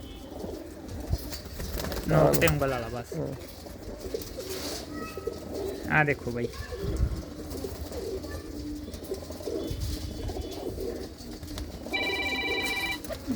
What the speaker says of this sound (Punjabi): ਇਹ ਲਾਲ ਚੀਨੇ ਕਬੂਤਰ ਹੈ